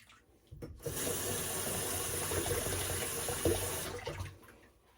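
Tap water runs steadily into a sink while a shave bowl is rinsed, a continuous splashing stream for several seconds that starts and stops abruptly, fairly close.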